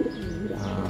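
Soft racing pigeon coos and a few light chirps close by, short and low over a faint background hum.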